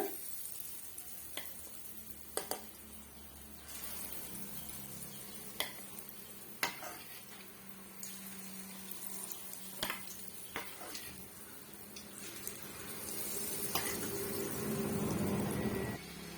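Spoonfuls of egg pakoda batter dropped bit by bit into hot oil, with steady frying sizzle, scattered spoon and pan clicks, and the crackle swelling louder near the end.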